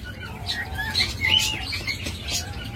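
King quails giving soft, high chirping calls against a constant low rumble of background noise, faint and continuous with no talking.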